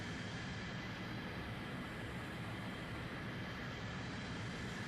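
Aircraft drone steadily overhead in a War Thunder tank battle, a constant broad roar with no breaks, heard from a French AMX-30 DCA anti-aircraft vehicle.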